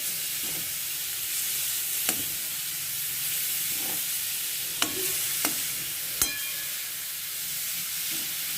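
Food fries over a low gas flame with a steady, close hiss, while a spoon stirring the pan adds a few sharp clinks and scrapes. No one speaks.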